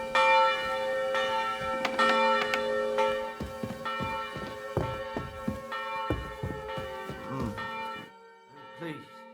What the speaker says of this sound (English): The bell's ringing for Hans the 5th time.